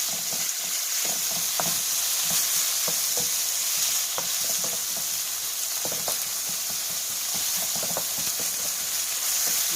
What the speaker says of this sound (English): The hamburger is just about done, and I'm just going to cook it until these onions are done.